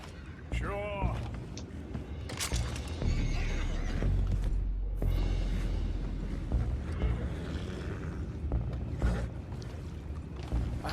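Horses neigh in Red Dead Redemption 2, with a clear whinny near the start over steady creaking, mechanical clatter and a dense game soundscape, and voices talking throughout.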